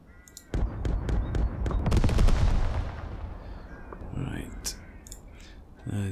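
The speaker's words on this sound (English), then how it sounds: "Turret machine gun to start with." A tank's turret machine gun fires in the World War II video game Second Front, a dense close burst of rapid shots that fades into rumbling echoes, with someone talking over it.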